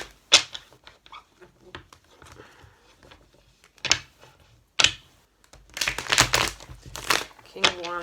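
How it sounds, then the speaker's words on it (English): Tarot cards are shuffled by hand, giving close crisp riffles and slaps in short bursts with a longer flurry near the end, separated by pauses and quiet talking. "I already shuffled these, but I'm going to shuffle them again"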